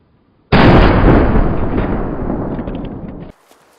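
A rifle shot strikes a chamois in the hunting game Way of the Hunter: one sudden loud blast that rolls into a long, fading rumble for nearly three seconds before cutting off.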